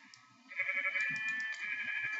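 A sheep bleats in the Minecraft video game. It is a drawn-out, wavering bleat, fairly clear and moderately loud, with faint background game sounds.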